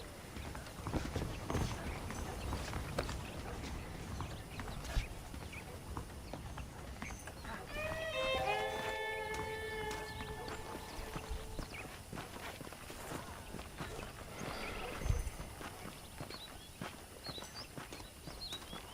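Steady hoof clip-clop of horses walking in Red Dead Redemption, continuous and fairly close, over a busy background with a brief whinny-like tonal call midway.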